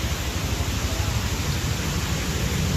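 A fast, flooded river in Cianjur after heavy rain rushes past as a steady, loud, broadband roar, continuous and close with no voices over it.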